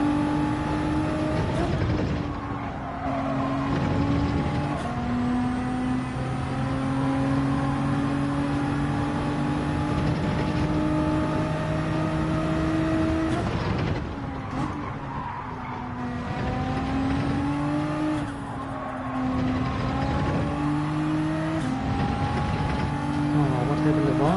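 Race car in Gran Turismo 7 at Spa, Gr.1 versus Gr.3, held in second gear with the engine revved hard, rising and dropping pitch across several shifts, loud and continuous, with tire squeal and commentary talking over it.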